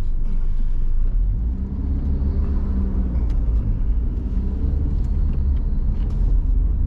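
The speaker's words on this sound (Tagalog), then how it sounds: "Traffic." Steady low rumble of heavy city traffic in Jeddah, heard from inside a moving car among many motorbikes, with engine drone continuous throughout and faint higher clicks on top.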